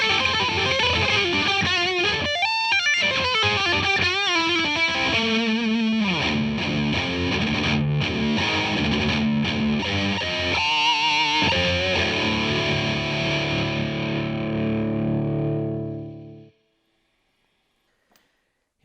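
Distorted electric guitar lead played through a Blackstar HT Soloist 60 Venue Series combo amp, loud saturated notes and bends sustained for about fifteen seconds before cutting off into silence.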